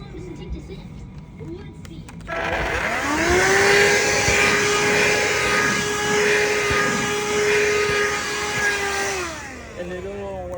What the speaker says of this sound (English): If you have a handheld vacuum, that's gonna work.